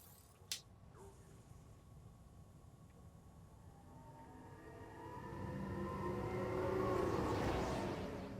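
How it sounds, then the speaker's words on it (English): Tram ride in Mass Effect Andromeda: a brief click, then a low mechanical hum and whoosh that swells steadily over several seconds as the tram gathers speed, with a faint rising whine. "we've got to go there by tram"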